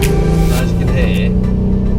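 A Volkswagen Up GTI's 1-litre three-cylinder engine revs loudly up through the gears, a buzzy, rising tone with strong low harmonics close up, while someone talks over it.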